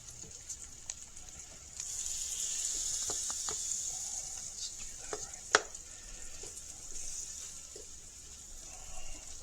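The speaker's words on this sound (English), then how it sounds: "we're just browning sides" Chicken cordon bleu browning in a frying pan, a steady bright sizzle with scattered pops and a sharp clink midway, close and continuous without talk.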